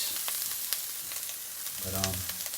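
Red onion frying in a hot pan, a steady close sizzle with scattered crackles and a brief stirring scrape near the end, with no talking over it.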